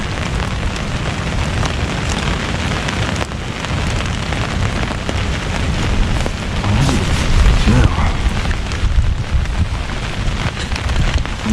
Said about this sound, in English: It has been raining for ages.